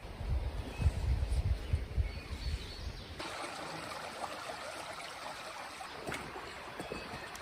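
A creek flows and trickles nearby at a wild camping spot, a soft, steady water wash with some low rumbling bumps in the first few seconds.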